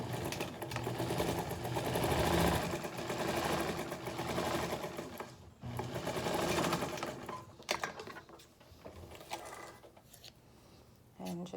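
Sewing machine stitching the pattern side of a fabric face mask, a fast mechanical whirring run in several bursts with brief pauses between, close and clear.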